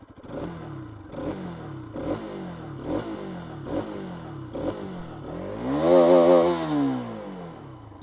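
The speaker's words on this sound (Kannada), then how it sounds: "ಗಾಡಿ ಎಕ್ಸಸ್ಟ್ ನೋಟ್ ಕೇಳಿಸ್ಕೊಡಿ" A Bajaj Pulsar RS 200 motorcycle revved repeatedly, seven quick throttle blips in a steady rhythm, then a longer, louder rev that rises and falls, close and clear with a bassy exhaust note.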